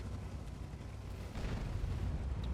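A T-49 tank gun fires in World of Tanks, a deep rumbling boom that swells midway and lingers under steady low engine drone, no voices.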